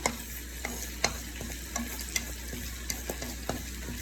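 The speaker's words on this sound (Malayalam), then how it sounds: "അതിന് ചൂടായി വരുമ്പോഴത്തേക്ക് ശകലം കടുക് ഇട്ട് കൊടുക്കുക." Mustard seeds sizzle in hot oil in a pan just used to dry-roast sesame seeds, a steady frying hiss punctuated by sharp, irregular pops and crackles over about four seconds, with no talking.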